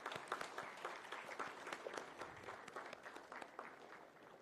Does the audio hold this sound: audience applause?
yes